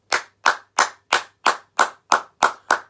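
One person claps nine times in a steady, evenly spaced rhythm, each clap sharp and close to the microphone in a quiet room.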